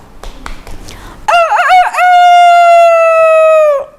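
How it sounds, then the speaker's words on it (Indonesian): A rooster crows loudly nearby, a single long cock-a-doodle-doo with a stretched final note, after some faint clicking beforehand. "Tiba-tiba tak terasa ayam membangunkan Aisyah dari tidurnya"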